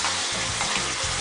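Tomato puree frying in a pan for malai kofta curry, a steady close sizzle and hiss with faint stirring scrapes throughout.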